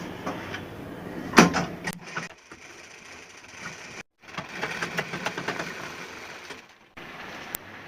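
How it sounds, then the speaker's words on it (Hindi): A sewing machine stitching a semi patiala salwar runs in short mechanical bursts, with a sharp clack early on, brief pauses and a low whirring motor, moderately quiet and close. "एक ठो सिलाई हमें इस जगह मारनी है।"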